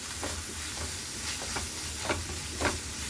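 Pepper powder being stirred into paneer curry in a hot pan, a constant close sizzle and hiss with soft rhythmic scrapes of the spoon recurring every half second or so, no voices.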